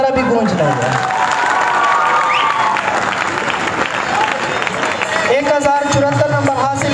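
Audience applause and cheering fill a school teachers' day event, a steady, loud wash of clapping mixed with crowd shouts and children's voices, with speech over the top near the end.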